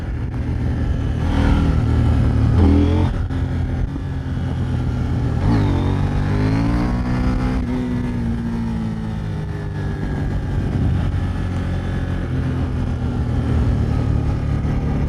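KTM 890 Duke R 2021 motorcycle ridden on a country road with bends, its engine revving up through gears with rising and falling pitch under strong wind rush, loud and continuous.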